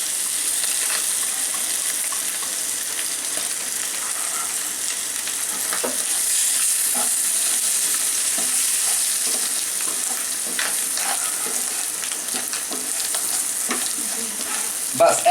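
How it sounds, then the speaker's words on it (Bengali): Dried shrimp frying in a pan with chili powder and salt, a steady bright sizzle throughout with occasional scrapes and stirring taps, close and continuous, no voices. "ওগুলা দিয়ে একটু ভেজে নিতে হবে।"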